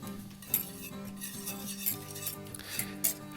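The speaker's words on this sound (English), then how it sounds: "So stir that all together." A utensil stirs honey sriracha lime sauce in a bowl, producing rhythmic scraping and clinking strokes repeated roughly every second with sharp metallic ticks, close up and with no talking.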